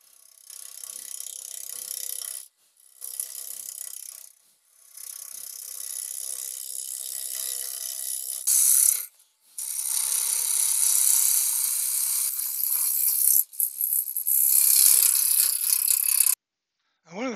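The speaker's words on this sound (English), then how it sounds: "let's start with a pull cut across the back. See how that cuts." A long-wing grind gouge on a wood lathe making pull cuts across the back of a turning blank, giving a steady high, raspy hiss with brief pauses between passes, close and loud with no talk.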